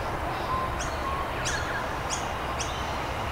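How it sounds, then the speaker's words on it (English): At Norfolk Lakes, a bird repeats a short, bright chirping call four times, spaced about half a second apart, over a steady outdoor background hiss, moderately close and with no talking. "Oh, we have, I call him the Jesus bird."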